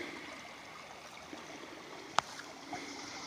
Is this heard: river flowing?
yes